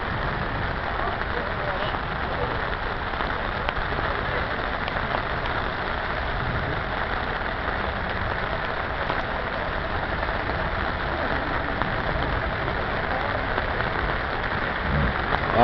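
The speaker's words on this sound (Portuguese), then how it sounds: "A água caindo." Heavy rain pours steadily at a fishing pond, a dense constant hiss that stays level throughout, with a voice talking faintly underneath.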